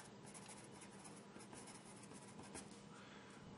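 Staedtler Norica HB pencil scratching continuously across paper, a faint, dry, close-up rasp with steady texture and no voices.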